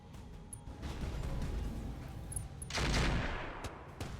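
Mech weapons fire in the RogueTech BattleTech video game, a muffled rumbling volley that swells, then a sharper louder burst of gunfire that fades away.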